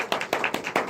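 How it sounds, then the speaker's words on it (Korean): Audience at a film talk event for the movie Fairy clapping, a brief burst of a few sharp, close claps. "박수."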